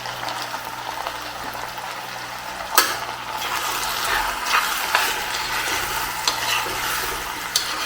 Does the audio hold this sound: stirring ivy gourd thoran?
yes